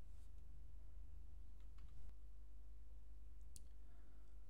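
Faint, sparse clicks of a computer keyboard as a command is typed on a CentOS server during a cPanel install, a few quick keystrokes over a low steady hum.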